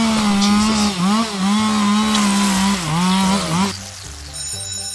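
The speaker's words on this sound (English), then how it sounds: "I got you a chainsaw." A chainsaw in the game Kindergarten 2 revs loudly up close, its engine wavering in pitch through several surging cycles before cutting off near the end.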